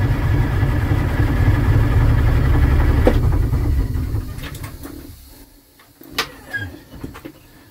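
Cold start of a 1972 Detroit Diesel 6V53 two-stroke diesel engine: loud, steady low rumble of cranking and catching for about four seconds, then dying away to near quiet with a few short knocks and bursts.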